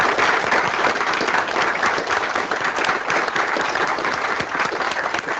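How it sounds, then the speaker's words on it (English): An audience at a live-streamed further education event gives a steady round of applause for a guest named Chris, dense and even clapping that lasts the whole stretch without talk. "So a massive round of applause for Chris."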